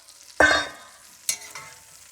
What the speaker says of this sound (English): Then we're just gonna toss in all of the onions and the garlic.